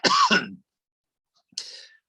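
A man coughs and clears his throat in two separate bursts: a loud, rough hack at the start, a short gap of silence, then a briefer, raspier clearing near the end.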